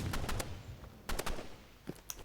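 Short bursts of rapid gunfire from a video game, three quick volleys with pauses between, fairly close and crisp.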